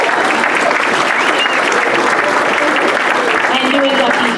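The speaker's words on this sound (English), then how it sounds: "Let's have one more round of applause for the new inductees." Sustained applause from an audience at a Rho Kappa social studies honor society induction ceremony, honoring the new inductees; steady, dense clapping fills the whole stretch at a loud, even level.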